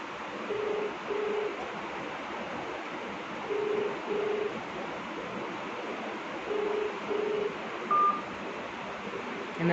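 A pump mobile controller handset gives a phone ring: short electronic tone pairs repeating at steady intervals over a constant hiss, with one higher beep near the end.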